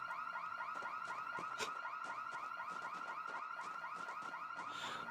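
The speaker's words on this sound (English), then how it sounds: "that's where the house alarm was" A house alarm rings in the video game Project Zomboid: a steady, repeating electronic warble cycles quickly and continuously, sounding somewhat distant and evenly loud throughout.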